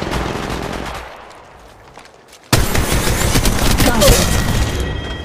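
Gunfire in the mobile video game Apex Legends Mobile, a faint lull followed by an abrupt loud eruption of rapid automatic fire and impacts, close and sustained.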